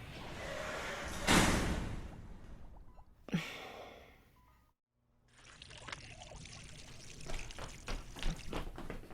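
Water pours from a can or hose onto rhododendrons in bursts, with a gurgling splash, a brief silence, then a longer steady trickle with small knocks.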